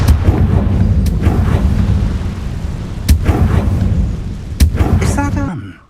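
Repeated booming blasts from a Confringo fire spell in Hogwarts Legacy, several sharp loud bursts spaced over a dense rumbling game-combat backdrop, with a voice speaking briefly.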